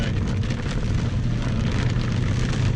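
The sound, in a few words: heavy rain pouring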